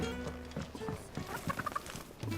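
Chicken clucking in the Final Fantasy XVI video game, a run of short gobbling clucks in the middle of the clip, moderately near, over faint game ambience and footsteps with no talking.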